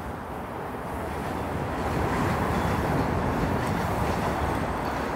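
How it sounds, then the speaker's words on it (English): A southbound Toronto subway train rolls into Yorkdale Station, a dense steady rumble with clattering wheels that grows louder and holds as it arrives, with no talking. "it looks like a southbound train is rolling in right now"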